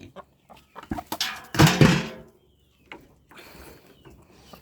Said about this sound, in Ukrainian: Кури.